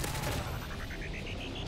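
Thermal-scoped LMG in Modern Warfare 3 on Xbox 360 firing a rapid, loud automatic stream, close and continuous with no talk.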